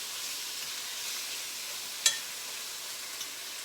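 Chicken browning in a skillet gives a steady, fairly quiet bright sizzle that runs without break, with one brief sharper pop and a faint tick later, no talking.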